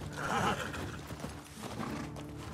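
A horse in the video game The Last of Us Part II whinnies loudly in a long, shaky neigh, with hoof clops and faint background noise following.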